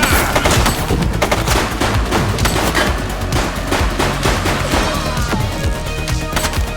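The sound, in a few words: gunfire from a video game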